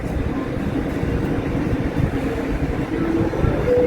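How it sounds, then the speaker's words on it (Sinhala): An electric double-decker train at a Bratislava station in Slovakia gives off a loud, steady, low rumble with faint tonal whines rising toward the end, heard close by. "නෝකයි මෙහි ට්‍රේන් ස්ටේෂන් එක ලස්සනයිද? වෙනවද මේ ට්‍රේන් මේ තට්ටු දෙකක් තියෙනවා"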